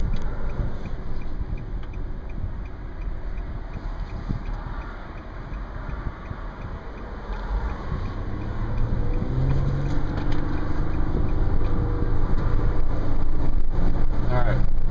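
Steady, loud wind roar inside a 2010 Nissan Murano cruising at 40 mph, buffeting through the sunroof with continuous road and engine rumble that swells slightly toward the end.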